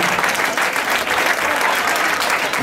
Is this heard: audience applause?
yes